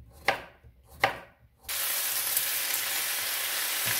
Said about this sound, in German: Also Zucchini, Champignons, auch die Zwiebelwürfel und die Knoblauchzehe hineinpressen und alles gut ein paar Minuten anbraten.